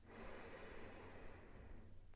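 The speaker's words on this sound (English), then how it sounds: "we'll just take a big breath in right now" A long, deep inhaled breath is drawn steadily through the nose and mouth during a mindfulness exercise, close and quiet with no talking.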